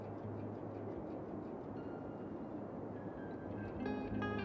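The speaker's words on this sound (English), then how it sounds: "Is that a train that just came through here?" A train rolls through a Cities: Skylines town, a faint steady rumble with a low drone, and thin rising tones and clanks toward the end as it passes.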